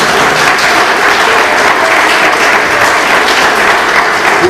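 A church audience applauds for Jesus after a talk by a pastor's guest, steady dense clapping filling the space loud and continuous throughout.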